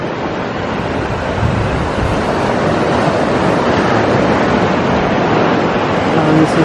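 Ocean surf washes onto a hidden beach beside a lagoon as a continuous, loud, broad rushing roar, with some wind noise and no clear breaks between waves.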